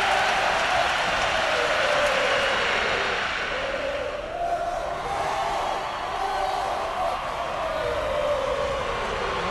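A football manager video game crowd roars in a dense, continuous wash of cheering that swells and dips slightly but never drops out, with no clear voices over it.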